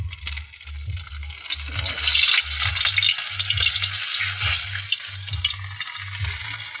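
Hotdog sizzles and fries in a pan over high heat, with steady crackling spatter and the regular clink and scrape of a utensil stirring against the pan.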